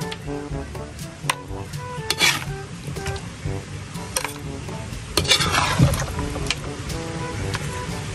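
Chicken adobo simmering in coconut milk is stirred in a pot, with scraping and clinking of a utensil against the pot over a steady sizzle, the stirring sounds coming in irregular bursts close by.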